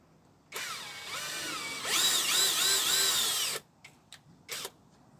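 A power drill whines at rising and falling speed while boring a hole through a van body during a conversion, loud and close, then stops and leaves a few short clicks and knocks.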